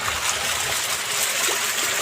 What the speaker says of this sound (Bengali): পানিটা এখান থেকে এই ক্ষেতের মধ্যে যাচ্ছে